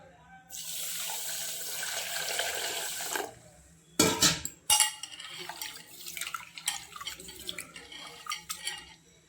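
Millet rice is washed in a sink: a tap runs steadily for a few seconds, then stops, giving way to close, uneven splashing and swishing as the grains are stirred and rinsed by hand.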